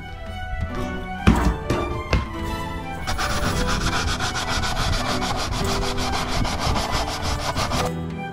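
After a few knocks and clunks, a jigsaw buzzes continuously with a rapid, rasping stroke, cutting metal steadily and loudly at close range.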